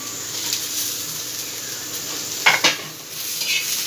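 Tomatoes added to golden fried onions in hot oil in a pan, a steady close sizzle with a couple of quick utensil scrapes and clinks, no talking.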